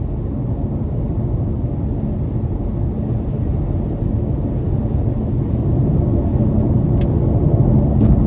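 A 2017 Mercedes-Benz GLA 250 cruises along the road, heard from inside as a steady low rumble of engine and tyre noise that holds even and continuous, with faint clicks near the end.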